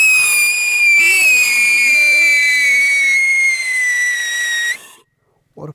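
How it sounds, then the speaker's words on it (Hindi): Kok brand siren pencil firecracker lit for Diwali gives a loud, shrill, steady whistle that slowly falls in pitch for about five seconds, then cuts off abruptly, followed by a brief voice. "अब टेस्ट करते हैं इस कोक ब्रांड की सायरन पेंसिल का और देखते हैं ये कैसी चलती है"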